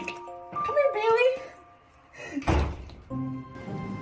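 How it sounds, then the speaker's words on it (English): A door slams once with a sharp, heavy thud partway through, amid other scattered household noises and background voices. "if it wasn't Mother who slammed the door, then who was it?"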